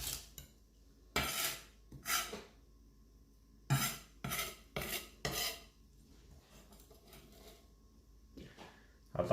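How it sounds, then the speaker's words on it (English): A knife blade pressed and scraped across garlic on a chopping board to crush it into a paste, heard as several harsh, rasping strokes in bursts separated by brief quiet gaps, close up. "with the flat of the knife, go like this. And this will like crush the garlic down into somewhat of a paste."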